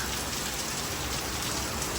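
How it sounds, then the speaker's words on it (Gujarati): Heavy rain pouring down outdoors, a dense, steady roar of drops hitting surfaces that stays loud and even throughout, with no voices. "મિત્રો જો વરસાદ જો ફૂલ ચાલુ થઈ ગયો."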